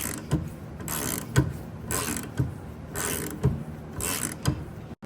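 A ratchet clicks steadily while loosening a 19 mm brake caliper bolt seized on the rear brakes of a 2011-2015 Kia Optima or Hyundai Sonata. The close, rhythmic bursts of pawl clicking come about once per second, with no talk.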